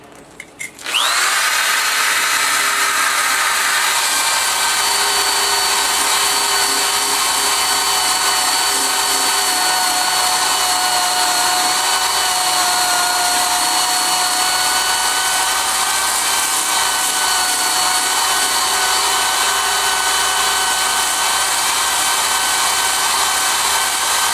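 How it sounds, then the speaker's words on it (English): A power drill with a steel wire pad spins up and runs continuously with a loud, steady whine and grinding hiss against the metal edge of a smoker door, with no talking. "I got a drill with a little steel pad on it, and I'm gonna run that along the edge of the door"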